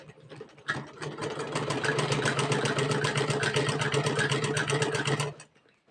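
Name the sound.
sewing machine stitching Patiala salwar panels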